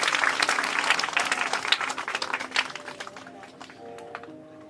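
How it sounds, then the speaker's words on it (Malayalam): Applause for children at a prize-giving during the Maramon church convention children's meeting: a large crowd claps densely and loudly, then the clapping thins and fades toward the end. "നല്ല ക്ലാപ്പ് കൊടുത്തേ, നല്ല ക്ലാപ്പ്,"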